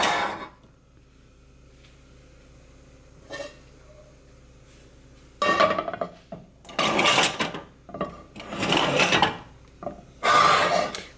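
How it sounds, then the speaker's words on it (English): A cooking pan is pulled out and handled, with a quiet stretch and a faint knock, then a run of loud clattering, scraping and rummaging bursts close by. "Let me get a pan."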